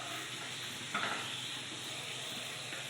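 A soft, steady sizzle and hiss of mocha paturi frying in a pan, faint and continuous, with one brief stirring clatter near the start.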